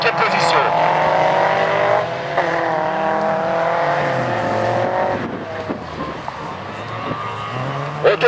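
Renault Mégane Coupé and Honda race cars lapping a circuit during a Fol'Car race final, engines droning steadily with revving pitch changes throughout, while a commentator talks over the engine noise.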